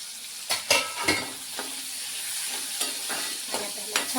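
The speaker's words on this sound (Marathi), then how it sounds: "दोडका आहे ना आपल्याला तेलामध्ये छान परतून घ्यायचा." Ridge gourd sautéing in hot oil with salt and turmeric gives a steady soft sizzle, broken by intermittent scraping stirs of a spatula in the pan, close by.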